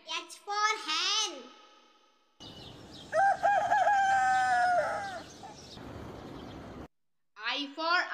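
Chicken calls, a drawn-out crowing cry between bursts of someone speaking nearby.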